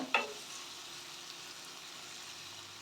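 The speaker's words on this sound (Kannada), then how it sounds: "ಟೊಮೊಟೊ ಸ್ವಲ್ಪ ಮೆತ್ತಗಾಗಲಿ ಅಲ್ಲಿ ತನಕ ಸ್ವಲ್ಪ ಫ್ರೈ ಮಾಡ್ಕೊಳ್ಳೋಣ" Tomatoes fry softly in a pan with turmeric powder and a pinch of salt, a faint steady sizzle after a brief stirring clink at the start.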